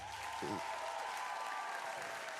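A burst of audience applause at a rap battle event, steady clapping from a crowd that holds at moderate level throughout.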